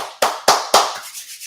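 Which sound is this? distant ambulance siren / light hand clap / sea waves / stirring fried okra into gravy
light hand clap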